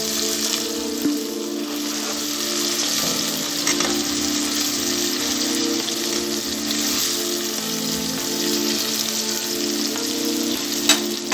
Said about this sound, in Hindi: हम प्याज को गोल्डन ब्राउन होने तक पकाएंगे।